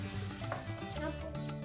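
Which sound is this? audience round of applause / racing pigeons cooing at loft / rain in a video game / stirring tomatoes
stirring tomatoes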